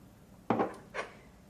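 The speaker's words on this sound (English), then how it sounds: "and give it a stir." Two quick clinks of a utensil against a bowl while stirring a sauce with added orange juice for Asian chuck steak tacos, close and brief with a short gap between.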